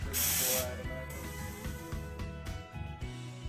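An air hose fills a motorcycle tire through its valve stem, a loud close hissing burst at first, followed by quieter intermittent clicks and shorter puffs of air.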